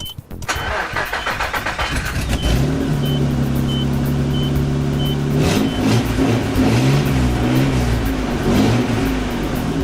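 A Nissan Pathfinder with about 160,000 miles and a freshly tuned engine cranks briefly, catches and settles into a steady, even idle, loud and close with no voices.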